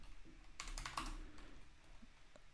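Quiet keystrokes on a computer keyboard, a short cluster of quick taps followed by a few scattered presses, faint and close.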